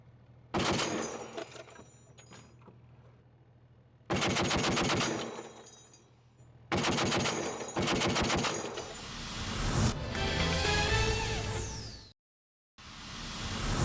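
Bursts of automatic fire from the weapon of a remotely operated combat module ring out loud and close in several long strings, each separated by a short gap, with no talk.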